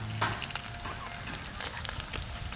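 Papad frying in hot oil gives a steady, fairly quiet sizzle with light crackling pops scattered through it, and no voices are heard.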